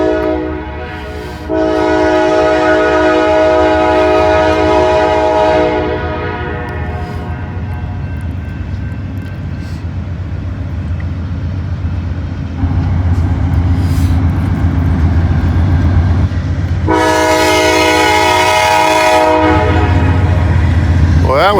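A locomotive-led freight train rolls past loudly and close on a line around Hamilton and Somerville, with a steady rumble of passing wagons and horn blasts sounding at the start and again near the end.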